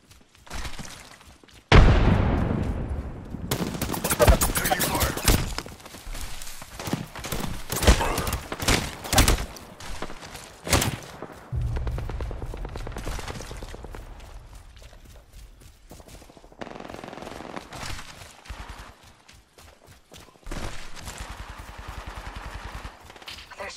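Gunfire in the battle-royale video game Apex Legends: loud, rapid automatic bursts and single cracks, dense early on, then sparser volleys mixed with thuds and impacts, with no talk.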